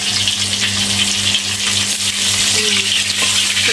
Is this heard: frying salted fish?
yes